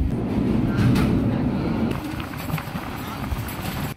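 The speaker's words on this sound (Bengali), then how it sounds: "শেষবারের মতো প্রবেশ করলো রামসাগর এক্সপ্রেস ট্রেন" The Ramsagor Express train rolls on the Bonarpara–Dinajpur–Panchagarh route in a rumbling, rhythmic clatter of wheels over rails. It is loud and close, with a voice speaking over the running noise.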